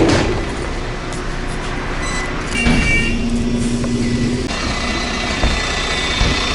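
A bus drives along a road between Belgian towns, its engine and road rumble droning steadily and fairly loud with faint rattles, no voices over it.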